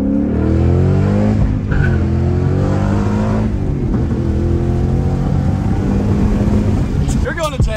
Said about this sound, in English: We'll give you a third gear drawn out just to kind of get an idea of how this thing sounds